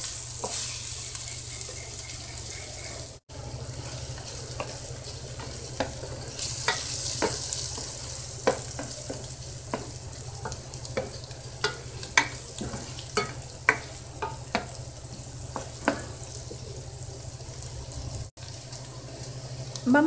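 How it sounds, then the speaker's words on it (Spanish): Onion frying in a pot for a traditional beef stew, a sustained soft sizzle with occasional sharp taps of a spoon stirring, heard alone without talking. "Vamos a freír solo hasta que la cebolla se torne cristalina."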